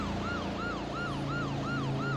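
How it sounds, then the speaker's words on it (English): A police car siren in the Roblox game Blacklands wails in rapid, regular rising-and-falling sweeps, loud and close, over a low engine rumble with no talking. "I got my sirens on."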